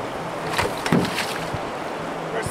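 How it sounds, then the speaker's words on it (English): A canoe set down at the end of a portage, giving a single soft hollow knock of the hull against the ground or water's edge, with outdoor wind and water ambience before and after. "First, gotta put the boat down."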